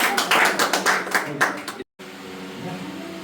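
A church congregation claps their hands together during a worship service, a brisk run of rhythmic claps that is fairly loud and close, cutting off abruptly before a quieter room tone with a faint murmur of voices.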